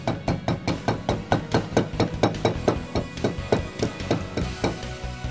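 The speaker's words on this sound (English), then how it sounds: "I much prefer a rubber mallet for this. So we gently tap around the outsides of the seal." Rubber mallet gently tapping a wheel bearing seal into place on a car, a steady series of about twenty evenly spaced, close, solid knocks.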